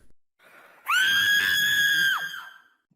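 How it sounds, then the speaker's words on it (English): A voice actor who plays a wolf character gives a single loud, high, sustained scream of about a second and a half, preceded by a soft intake of breath and heard alone. "Yeah, that is me doing the scream"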